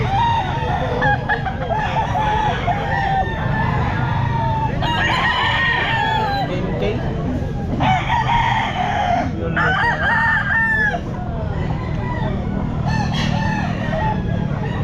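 At a busy pet market, chickens and roosters crow and cluck loudly and repeatedly, the calls overlapping against a constant crowd din.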